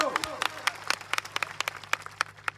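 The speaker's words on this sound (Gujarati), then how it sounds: "એમના માટે જોરદાર તાળીઓ પાડી લો." Crowd applause at an outdoor political speech in Savli village, sharp scattered claps in a steady rapid patter throughout, fairly close and loud.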